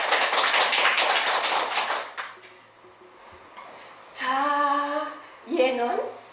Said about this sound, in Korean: 자 친구들 박수 한 번 부탁할까요?